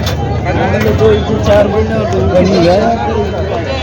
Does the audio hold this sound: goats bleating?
yes